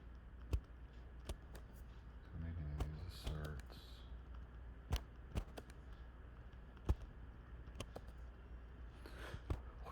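Typing on a Mac keyboard: sparse, sharp key clicks at irregular intervals, with a brief faint voice partway through, over a steady background hum.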